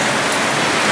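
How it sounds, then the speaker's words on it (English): Rain pours steadily onto a sailboat, the SV Seeker, as a dense, loud, continuous hiss with no voices. "And we're getting some rain now."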